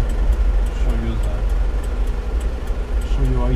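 A 1989 Mitsubishi MiniCab kei truck's 550cc engine hums low and steady while driving, with road noise underneath and a voice speaking over it.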